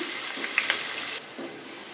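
Onions fry in a pan as the base for spicy pomfret fish, a moderate steady sizzle with a couple of small pops before it drops slightly quieter near the end.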